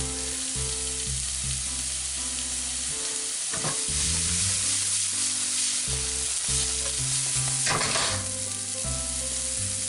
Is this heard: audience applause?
no